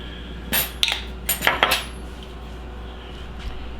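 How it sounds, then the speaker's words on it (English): A metal fork clinks and scrapes against a dish while draining liquid from a canned fish mixture, with several quick close taps clustered over about a second, then quiet. "Use a fork to drain some of the liquid out."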